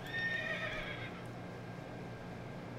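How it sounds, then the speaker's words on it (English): A horse in a video game, an online multiplayer RPG, lets out a bright whinnying neigh in the first second, then fades into steady game ambience and low background hum. "Okay, back on my horse."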